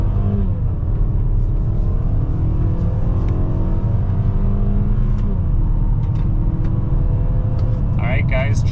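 A 2023 Mazda CX-5 Carbon Edition accelerates hard from a standstill with a little wheel spin, its engine droning and climbing through the gears, heard loud from inside the cabin while a person talks over it.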